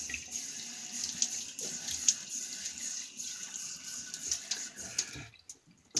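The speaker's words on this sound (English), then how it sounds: "let me wet my face and get some soap in" A bathroom tap runs steadily into a sink as water is splashed on the face before shaving, a continuous hiss with small splashes, cutting off near the end; close and fairly quiet, no talk.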